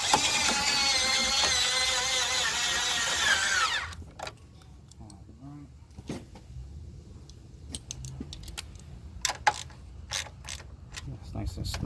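A power tool whirs steadily for a few seconds while tightening the battery hold-down on a 2003 Toyota Avalon, then stops, followed by scattered clicks and clatter of tools and parts nearby.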